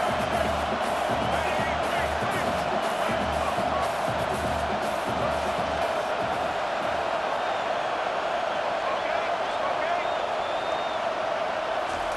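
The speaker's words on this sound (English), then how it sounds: "This crowd bringing the energy and noise early." Stadium crowd noise in the EA Sports College Football 25 video game, a steady loud roar of cheering fans that continues under a play-by-play commentator talking throughout.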